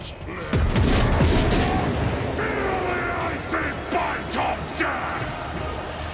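Gunfire in Rogue Trader: a heavy boom followed by a string of sharp shots and impacts in uneven succession over a steady rumbling game backdrop, close and fairly loud.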